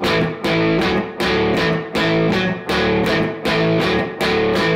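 Distorted electric guitar chugs a riff in steady straight eighth notes, repeating phrase after phrase, loud and up close with no voice over it.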